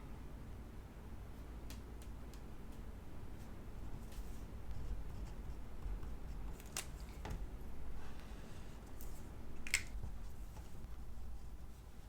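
Pen scratching across the pages of a paper planner, a steady soft scribble with a few sharper ticks, close and quiet, no talking.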